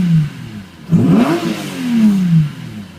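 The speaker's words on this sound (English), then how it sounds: "I've just got to give it another quick rev" Datsun 260Z engine blipped from idle into one quick rev that climbs sharply, holds briefly and winds back down, close and loud.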